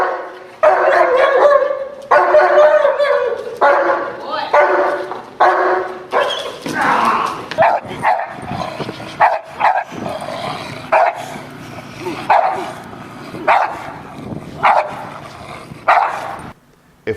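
A trained protection dog barks repeatedly at a decoy during a training session, loud and close, with rapid bursts at first settling into a steady series of separate barks.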